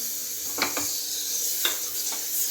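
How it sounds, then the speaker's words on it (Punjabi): Butter sizzling in a pressure cooker for Mumbai-style pav bhaji, a steady close frying hiss broken by a few sharp stirring scrapes, with no voices. "ਸਭ ਤੋਂ ਪਹਿਲਾਂ ਮੈਂ ਥੋੜਾ ਜਿਹਾ ਮੱਖਣ ਕੁੱਕਰ 'ਚ ਪਾ ਦਾਂਗੀ ਜੀ"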